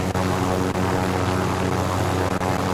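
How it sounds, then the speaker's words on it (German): Helicopter in the video game Call of Duty Modern Warfare, a loud, steady rotor and engine drone throughout. "Da ist ein anderer Heli."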